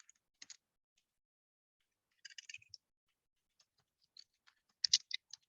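Sparse bursts of computer keyboard typing, short clusters of crisp key clicks separated by quiet pauses, close and fairly soft, with no talk.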